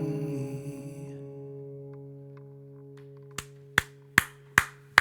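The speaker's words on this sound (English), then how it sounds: "You see there's more people clapping?" An audience claps after a performance. A sustained tonal chord fades out, then five sharp, evenly spaced claps ring out close and loud near the end, with no talk over them.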